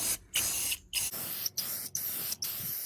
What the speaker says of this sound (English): I will paint it black and install it. Put a nice coat of black paint on it.